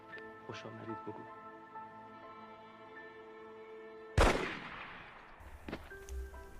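A single loud gunshot cracks sharply from a film soundtrack, cutting through quiet sustained tones and trailing off into a brief rumble, followed by a softer thump.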